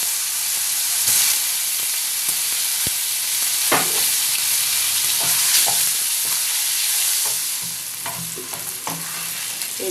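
Boiled potatoes frying in oil give a steady, close sizzle and hiss, broken by occasional scrapes and knocks as they are stirred in the pan.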